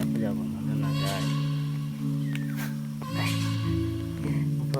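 A house cat meows near the tea table as it comes looking for sweets, a few drawn-out cries over a steady low hum, with someone talking nearby.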